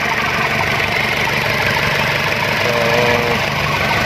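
Isuzu Elf truck with a 4HG1 diesel engine idling just after it starts, a steady, loud, close rumble with a faint knock that holds even throughout, with no voices over it.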